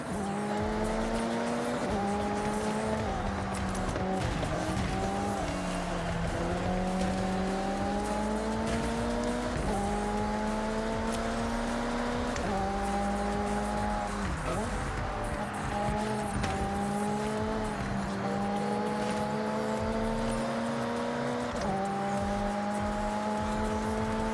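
Race cars in the Forza Horizon 6 video game roar at high revs while shifting up through the gears in repeated climbing sweeps, with tire squeal mixed in, loud and continuous for the whole stretch.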